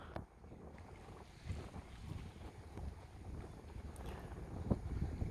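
Wind at Jastarnia on the Hel Peninsula in northern Poland, early on a summer morning, buffets the microphone with low rumbling gusts that swell and grow stronger toward the end.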